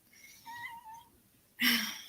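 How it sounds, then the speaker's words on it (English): A pet cat meows indoors, a drawn-out two-part meow at moderate level followed by a sharper, louder meow at the end, close to the microphone with no talking. "She's been following me meowing for like the past 30 minutes."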